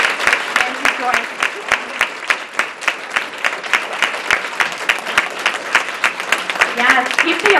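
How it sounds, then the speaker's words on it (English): Continuous audience applause at an Ohio women's civic event, many hands clapping in a dense, fairly loud wash with sharp individual claps standing out throughout. "Yes, keep the applause going."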